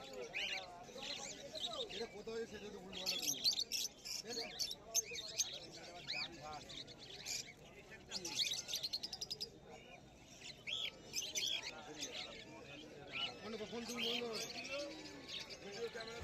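Caged cockatiels, including black cockatiels, chirp with bright repeated calls at an Uluberia bird market, mixed with other birds and a busy crowd, while someone talks over the chatter.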